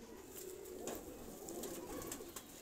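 Large Oman-size pigeons coo softly and continuously at close range, a low, faint murmur of several birds with no talking.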